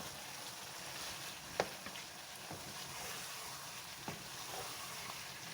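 Chicken frying in a pan is stirred before bottle gourd goes in, a faint, steady sizzle with a few light spatula clicks and scrapes.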